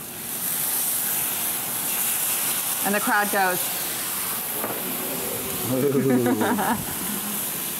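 Loud, steady sizzling and hissing steam as tamari hits a hot pan with cauliflower, with a voice speaking briefly over it.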